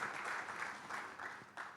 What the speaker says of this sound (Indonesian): mari berikan tepuk tangan saudara bagi Tuhan